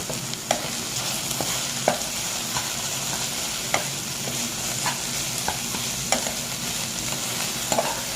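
Salt, turmeric and dry chilli powder frying in a pan with a steady soft sizzle, broken by scattered scrapes and taps of a spoon stirring the spices.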